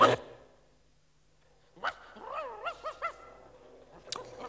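A cartoon dog barks and whimpers in a short burst of yelps near the middle, preceded by a sharp cry at the start and quiet stretches between.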